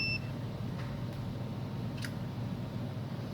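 A multimeter set to continuity mode gives brief faint beeps while a diode is tested during a TV repair, two short tones over a low steady background hum.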